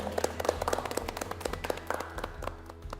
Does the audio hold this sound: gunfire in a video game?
no